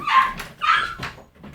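Dogs barking and whimpering close by, a few sharp yips and whines in quick succession, loud and clear with no talking.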